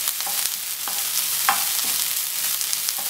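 Onions brown in a pan for a homemade hamburger topping with a continuous dense sizzle. Faint scraping stirs come through at intervals, and no voices are heard.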